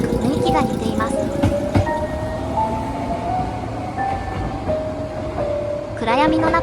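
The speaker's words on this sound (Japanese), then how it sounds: "暗闇の中に電車は行ってしまいました" An electric Nankai Railway train hums and whines as it pulls away from Kizugawa Station in Osaka at night, its motor tone shifting over a steady rumble, with a voice briefly at the end.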